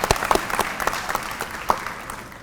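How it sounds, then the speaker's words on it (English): An audience at a university nursing commencement claps in a light, scattered round, with individual hand claps standing out against a soft, steady patter. "sure, we'll clap for them"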